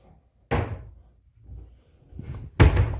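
Closet door in an apartment in Gumi, South Korea swung shut, two solid wooden thumps with a softer rattle between them, loud and close.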